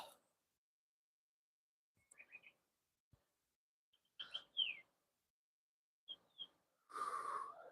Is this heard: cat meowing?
no